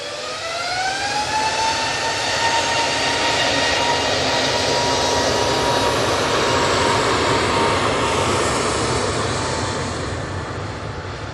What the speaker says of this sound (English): A321neo now on the roll